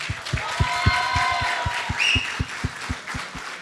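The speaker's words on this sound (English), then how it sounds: "let's give us a round of applause to each of us" A stage audience honoring Rajesh Hamal claps in a steady, rhythmic beat, each clap sharp and even, with tonal whooping or music running over the pulse.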